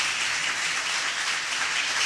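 Church congregation applauding during a Spanish-language service, a dense steady wash of many hands clapping at once, even and sustained throughout with no talk.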